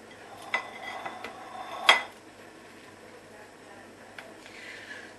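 Food being served into bowls, a few light clinks of cutlery and dishes, with one sharper ring of metal against a bowl, faint and close over a quiet room.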